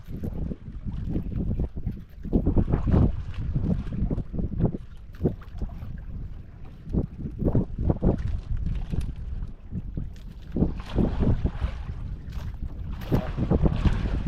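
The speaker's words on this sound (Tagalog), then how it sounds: "Malakas ang hangin. Kaya lumabo ang dagat." Strong gusting wind buffets the microphone in heavy low rumbling bursts, with choppy water noise, continuous and loud throughout.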